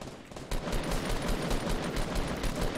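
Rapid automatic gunfire in the video game Fortnite, a steady stream of quick regular shots starting abruptly and running on without pause, moderately loud with no talking.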